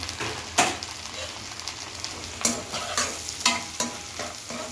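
Tomato goes into a pan of frying rohu fish with spinach, bringing a steady close sizzle and several sharp stirring scrapes and clatters spread across the moment.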